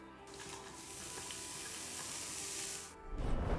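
Chopped onion hits hot oil in a pan and sizzles steadily and close for about three seconds, then a brief clatter of cookware follows.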